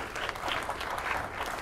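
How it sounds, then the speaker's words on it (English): Applause from the audience at an investor forum's business plan presentations, a steady broadband wash of many hands clapping at moderate, even loudness throughout. "Let's give Chris a round of applause"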